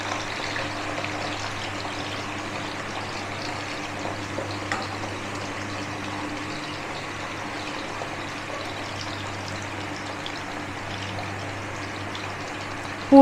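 Homemade masala potato chips fry in hot oil with a little water in the pan, giving a steady, even sizzle that runs unbroken and fairly close, with a sharp click at the very end.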